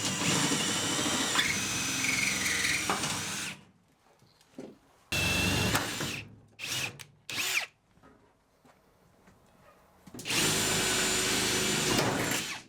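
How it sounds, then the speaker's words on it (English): Power drill drilling out rivets on the bulkhead of a Renault Master van conversion, loud whining bursts close by: one long run, several short stop-start pulses, then another long sustained run. "you need to get a drill bit which is slightly bigger and literally just drill straight through and it'll just pop straight off"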